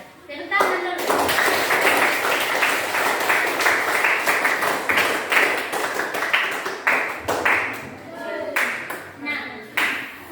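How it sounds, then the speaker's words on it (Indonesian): Junior high schoolchildren in a classroom clap together in a brisk, rhythmic pattern of sharp hand claps. The claps run for several seconds, then break into a few scattered, separate claps as the group finishes. "Tepuk tangan dulu."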